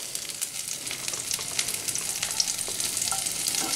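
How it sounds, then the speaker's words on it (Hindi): Chopped garlic sizzles steadily in the same hot oil used for the pesto pasta with spinach and peanuts, a dense, continuous crackling fry with small pops throughout, close and fairly loud with no voices. "सेम ऑयल में हम चॉप्ड गार्लिक डालेंगे"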